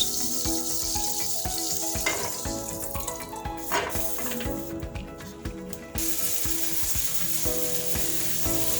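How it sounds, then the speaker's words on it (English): A sausage omelet sizzles and fries in a pan over minimum heat, with a steady crackling hiss throughout and a few brief clinks and scrapes of a utensil partway through. "make sure your heat is on the minimum so that you avoid burning the omelet"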